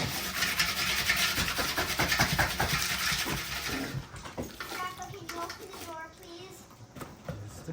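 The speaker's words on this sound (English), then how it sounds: "Go ahead and rinse this thing up." An item is rinsed under running water that gushes loudly for the first half and then drops to faint splashes and trickles while voices, including a child's, talk nearby.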